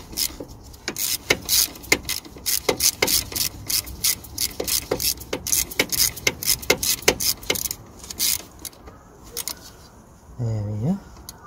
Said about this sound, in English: So we're gonna use a 6mm socket